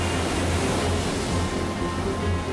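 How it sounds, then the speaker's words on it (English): Storm-driven ocean waves crash against a rocky shore where rockhopper penguins nest, a continuous loud roar of surf with no break and no voices. "You look at the waves crashing these guys around"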